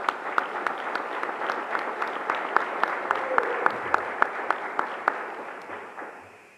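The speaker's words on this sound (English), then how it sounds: "a round of applause for Yancey Gates." Audience applause at a high school hall of fame induction, a steady wash of clapping from a large crowd with a few sharp, nearby claps standing out, fading toward the end.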